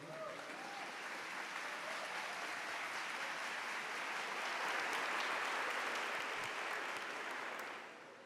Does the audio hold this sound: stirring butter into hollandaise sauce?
no